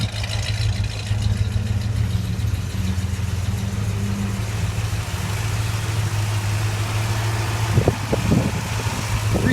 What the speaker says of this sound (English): The accurate exhaust duals, small pipes, factory mufflers.